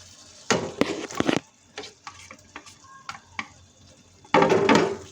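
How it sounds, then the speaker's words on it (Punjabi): Fried mushrooms stirred into a sizzling masala for mushroom masala, close spoon scrapes and clatters over a soft hiss of frying, with a loud stirring burst at the start and another at the end. "ਹੁਣ ਆਪਾਂ ਇਹਦੇ ਵਿੱਚ ਫਰਾਈ ਕੀਤਾ ਇਹ ਮਸ਼ਰੂਮ ਐਡ ਕਰਦੇ ਹਾਂ"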